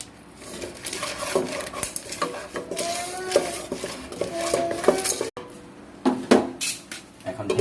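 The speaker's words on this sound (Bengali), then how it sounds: "মহাশয় ঢেলে দিল একটু পপকর্ন, নেড়ে দিচ্ছে আমাদের মহাশয়ের বোন।" Popcorn kernels are stirred in a metal pot, giving a steady run of scraping, rattling clinks of a utensil against the pan, close and fairly loud, with no talking.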